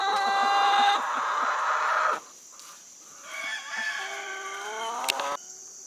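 Chickens in a homestead coop cluck and squawk close by in a busy overlapping chorus with drawn-out calls, briefly quieter in the middle before picking up again.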